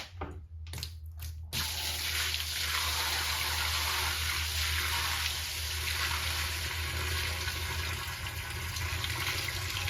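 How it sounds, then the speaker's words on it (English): Several buckets of water poured into a pot of beeswax during wax recovery, a loud steady gushing and splashing that fills the whole stretch after a few brief dropouts at the start, with no talk. "I've got several buckets of water here, so they're just going in now."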